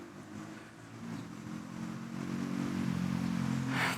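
A motorcycle approaches and passes, its engine drone building steadily from moderate to louder and holding near, with no talk over it.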